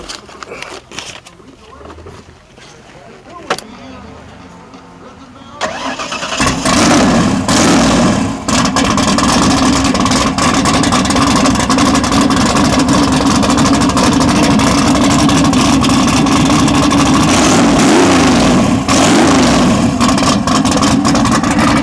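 A 1986 Ford Mustang GT drag car with a 438 cubic inch engine running on E85 fires up at a car show and settles into a loud, steady, roaring idle close by, with people talking faintly before the start.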